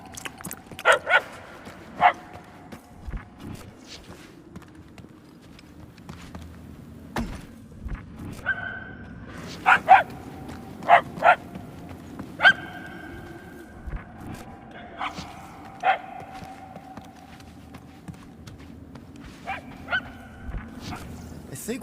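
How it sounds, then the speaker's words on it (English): A dog barks repeatedly in Guardians of the Galaxy, sharp yips and barks scattered at irregular intervals over a low game ambience, with some quieter whimpering between bursts. "The barks are getting louder at least."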